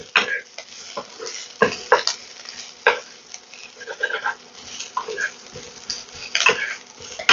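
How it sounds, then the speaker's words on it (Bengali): Chopped green chillies and grated ginger are stirred into a mixture for aloo matar finger pakora, with a spoon scraping and clinking against the pan in irregular close strokes over a faint sizzle. "দিয়ে দিচ্ছি কিছুটা পরিমাণ কাঁচা লঙ্কা কুচি। ভালো করে আমি নাড়িয়ে নিচ্ছি।"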